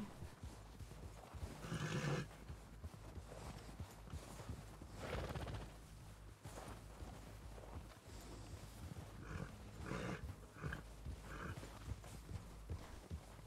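Horse in a RedM roleplay game: hooves clip-clop steadily while a whinny rises over them, with further neighs and snorts breaking through a busy ambient background, close and fairly loud throughout.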